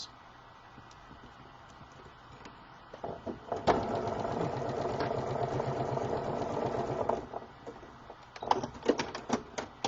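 Sewing machine chain piecing quilt fabric, a run of rapid rhythmic stitching in the middle, bracketed by quieter handling noises and short clicks.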